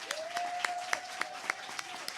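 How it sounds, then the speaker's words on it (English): Audience at the New Jersey Assembly 31 candidate forum applauds the candidates in a light, thin patter of claps, a few sharper individual claps standing out, with a steady tone humming underneath. "I would like for us to give all of them a round of applause"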